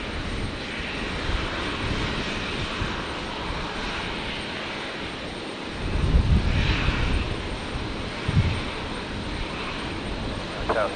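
Steady jet-engine roar of a Qantas Link Embraer 190 pushing back at Brisbane Airport, heard from a distance as a broad constant rumble with slight swells, no voices present.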